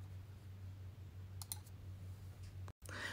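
A computer mouse gives a couple of quiet, close clicks over a low steady background hum.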